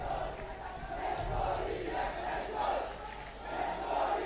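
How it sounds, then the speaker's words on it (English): Schools rugby crowd roaring and chanting in support of D.S. Senanayake College, a dense, continuous wall of massed voices with swelling surges of cheers, steady throughout. "DS with the crowd getting behind them."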